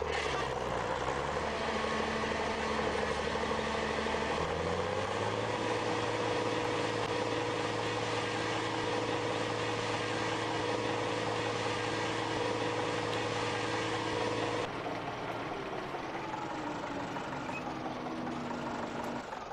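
A tractor engine in Farming Simulator 15 drones steadily with a constant harmonic hum, rising in pitch once early on and shifting in tone near the end, loud and continuous.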